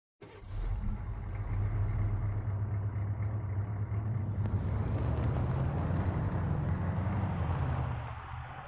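Vehicle engine in Arma 3 driving with a steady low rumble and drone that holds loud and continuous throughout, with wind-like noise over the top and no talking.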